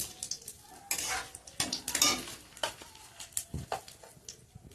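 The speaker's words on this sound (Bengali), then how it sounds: "ফোড়ন দিচ্ছি, তেজপাতা ফোড়ন দিলাম, গরম মশলা ফোড়ন দিচ্ছি" Bay leaf and garam masala tempered in hot oil give a burst of sizzling and crackling, mixed with scraping and clinking of a utensil against the pan in short busy bursts, close by with no voices.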